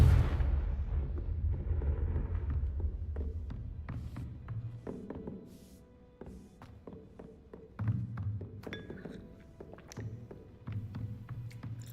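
Confringo fire spell cast in Hogwarts Legacy bursts loudly at the start and fades into a dull roar, followed by scattered thuds, taps and crackles.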